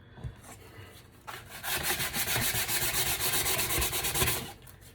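Light hand sanding on the sides of a wooden box, a close, steady rapid back-and-forth scratching that starts after a short pause and runs for a few seconds before stopping, with no talk.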